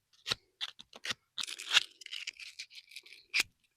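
An RV electrical plug prong is scrubbed with emery cloth, a run of short, sharp, close scratchy strokes in uneven bursts separated by brief silences.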